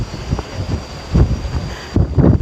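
Strong wind at a hot, open quarry buffets the microphone in uneven gusts, rumbling low and close with short bursts and lulls, no voices.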